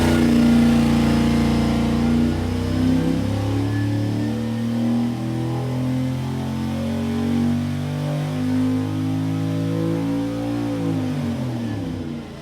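A car engine revs and idles loudly up close, its deep rumble rising and falling steadily over several seconds with no talking.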